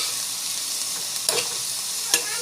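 Coconut, tomato and spices being sautéed and stirred in a pan, a soft steady sizzle with two brief louder scrapes of the spoon, close and on its own.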